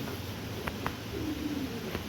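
A single faint, drawn-out pigeon coo over constant background noise, with a couple of light clicks beforehand.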